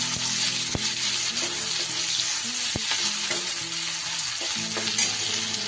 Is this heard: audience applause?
no